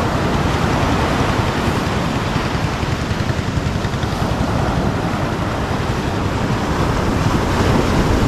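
Large sea waves at a coast, a loud, continuous roar of surf and rushing water mixed with strong wind buffeting the microphone, broadband and steady throughout without speech.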